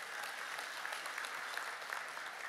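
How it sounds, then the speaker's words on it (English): A crowd at a Chamber of Commerce award ceremony honoring the Legislator of the Year applauds in a dense, even wash of clapping, steady and fairly soft, as if heard from a distance. "give her a round of applause"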